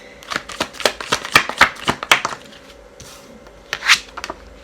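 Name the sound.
tarot cards being shuffled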